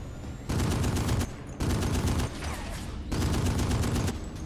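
Machine gun in a WWII beach-invasion video game set in 1945, three long bursts of rapid, beefy automatic fire separated by short pauses, loud and close with no talk over it.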